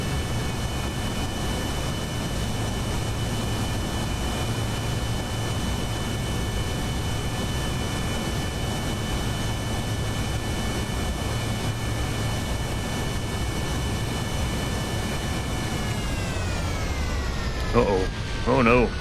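A biplane in Kerbal Space Program drones with a steady engine tone that holds level, then sweeps down near the end as it comes in to land, with a brief clatter at touchdown.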